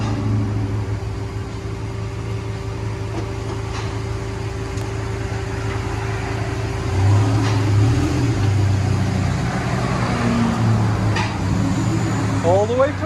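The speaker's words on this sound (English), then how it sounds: "Ram 2500 V10. Muffler delete" A tuned Ram 2500 pickup with a V10 engine, muffler delete and 5-inch exhaust tip idles with a deep, steady rumble, swelling slightly louder partway through and holding a continuous low drone throughout.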